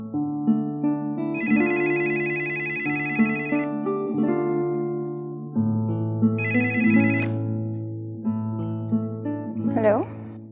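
A telephone rings on the line after a number is dialed, repeating in steady bursts of a bright electronic tone over background music, with a short rising chirp near the end.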